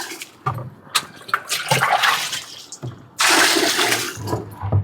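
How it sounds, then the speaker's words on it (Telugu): Water is poured into a container in uneven splashing bursts, close by. A louder, sustained gush comes toward the end. "ఇలా ఎక్కువ నీళ్ళు వేసాం కదండి"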